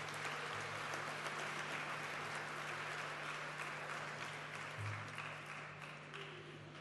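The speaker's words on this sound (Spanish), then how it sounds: "queremos agradecer con un fuerte aplauso el trabajo de TV Senado" An audience at a civic dialogue event gives a sustained round of applause for the TV Senado crew, a dense, even patter of many hands continuing throughout and tapering slightly at the close.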